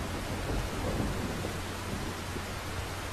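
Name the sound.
rain in the video game Silent Hill: Downpour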